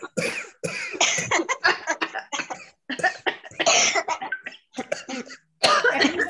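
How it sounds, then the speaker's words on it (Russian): A group coughs out forcefully during a breathing exercise, a series of sharp overlapping coughs in bursts separated by short pauses, loud and close throughout. "набираем воздух в животик и откашливаемся до конца, как можно больше"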